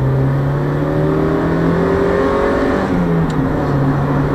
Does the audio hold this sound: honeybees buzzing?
no